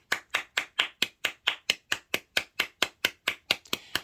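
A pair of hands claps sharply and evenly, about four crisp claps per second, close and loud, with no voices and a slightly looser final clap near the end.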